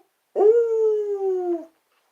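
A person howls at the full moon at midnight, imitating a wolf with one clear, sustained howl that starts abruptly and slides slowly downward for over a second before fading into silence.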